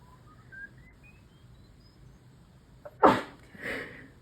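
A single sharp sneeze bursts out near the microphone in a quiet lab room, followed a moment later by a softer second burst, with a faint rising test tone sweeping beforehand.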